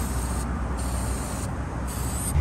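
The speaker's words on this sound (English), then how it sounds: "you can spray it on this cable to try to prolong its life" Aerosol battery terminal protector sprayed onto a starter cable of a 2019 Ford F-150, a close, steady hiss that runs unbroken for a couple of seconds.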